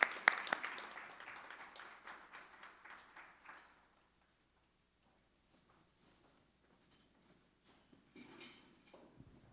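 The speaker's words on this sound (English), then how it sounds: "let's have a round of applause for Dr." A luncheon audience claps for a speaker, a sparse, thin patter of applause that fades out within a few seconds, followed by near silence with faint scattered knocks.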